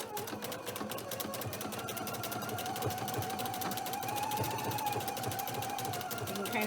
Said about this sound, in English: I am going to zigzag this end here closed just so that I don't get any frays or ravels.